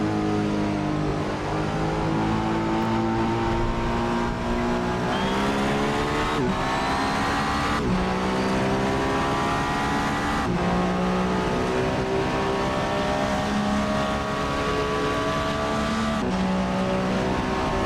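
A race car in Assetto Corsa revs hard through the gears, its engine pitch climbing and dropping sharply at each shift, loud and constant, with occasional tire squeal.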